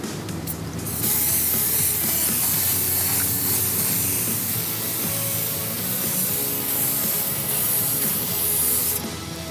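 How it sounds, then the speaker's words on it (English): A spray paint can hisses continuously onto a concrete firepit in a smooth back-and-forth motion, loud and close for most of the stretch. The hiss is bracketed by short gaps and faint mechanical rattles at the start and end. "The next step, you want to spray in a smooth motion back and forth or"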